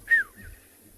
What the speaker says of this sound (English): there's a bird calling called a red-chested cuckoo